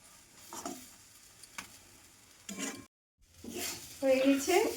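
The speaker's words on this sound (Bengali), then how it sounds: "এটাকে ভালো করে নেড়ে নিতে হবে।" A spoon scrapes and stirs pea filling in a pan over a medium gas flame, with soft sizzling and a few clinks against the pan, a brief pause, then louder scraping near the end.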